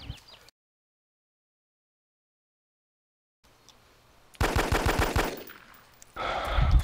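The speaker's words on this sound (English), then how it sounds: "I hear it's a pistol." Pistol gunshots ring out in a video game, a rapid string of sharp, loud cracks after a stretch of silence, followed by another close burst of fire.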